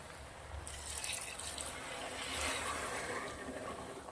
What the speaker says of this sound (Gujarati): હવે જરૂર પ્રમાણે આપણે પાણી રેડી દઈશું.